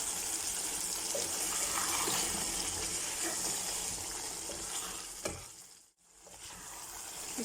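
Water hits a pan of frying potatoes and chicken, setting off a loud, steady sizzle and hiss that fills the first five seconds, then cuts out briefly and resumes as a quieter, even frying crackle.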